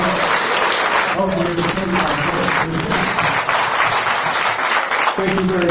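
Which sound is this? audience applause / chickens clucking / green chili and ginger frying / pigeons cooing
audience applause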